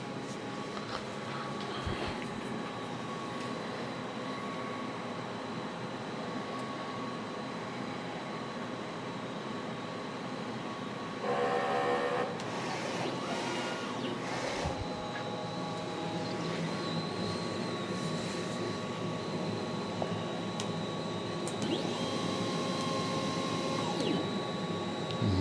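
DTF printer running a head cleaning cycle: a steady mechanical whir and hum with tonal whines, brief rattling bursts and a louder stretch partway through, continuous throughout.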